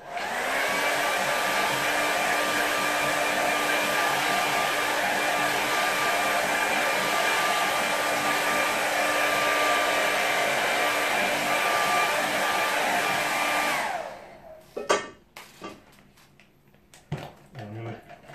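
A hair dryer blows steadily and loudly for about fourteen seconds, drying a watercolour painting, then switches off, leaving quiet handling noises and small clatters.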